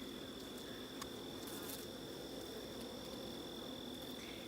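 Honeybees hum steadily inside a hive box late in the summer, a dense, continuous buzz close to the microphone with a few louder passes of individual bees.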